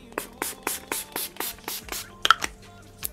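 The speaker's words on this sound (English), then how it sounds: "I'm gonna go in with my Kiki Beauty Rose Dew Setting Spray." A series of short, sharp spray bursts of Kiki Beauty Rose Dew Setting Spray in quick regular succession, about a dozen pumps close to the microphone, with a brief clatter near the end.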